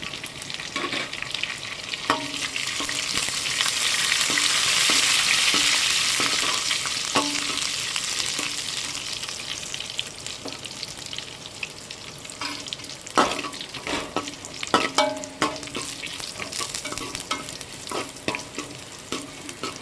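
Dried red chillies and curry leaves frying in a pan for an okra thoran, a steady sizzle that swells in the first seconds, then settles, broken by sharp stirring scrapes and clicks, with no talking.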